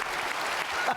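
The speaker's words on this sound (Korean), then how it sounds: "박수 한번 해보세요." Church congregation clapping during a sermon, a brief, even burst of applause filling the space.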